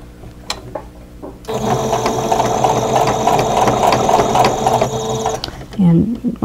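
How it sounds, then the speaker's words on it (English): A sewing machine runs steadily for about four seconds, stitching bias binding close to the fold on a crochet hook wrap, its motor whirring with a fine mechanical rattle, then stops. "And then just sew it close to the fold."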